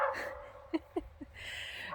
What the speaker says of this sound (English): God, that dog.